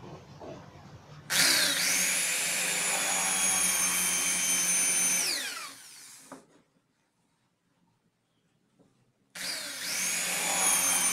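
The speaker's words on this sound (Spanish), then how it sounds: "Vamos a hacer dos perforaciones con nuestra broca avellanadora para instalar en la pared." A countersink drill bit bores two holes into a wall for mounting an aluminium-tube necklace display; each burst is a loud, steady high-pitched whine, the first running about four seconds and winding down, then a pause before the second starts, with no talk.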